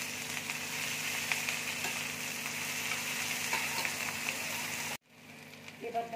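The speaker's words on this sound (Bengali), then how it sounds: "এবার আমি টমেটো কুচিটা দিয়ে দিচ্ছি।" Chopped tomato meets hot oil in a pan, giving a steady, close sizzle and frying hiss that cuts off abruptly, followed by quieter stirring noises.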